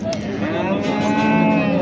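Cattle at the Tergachi livestock bazaar, including giant and Swedish giant cows and Kyrgyz breeds, let out a loud, sustained, close moo over a crowded market background, with no clear speech.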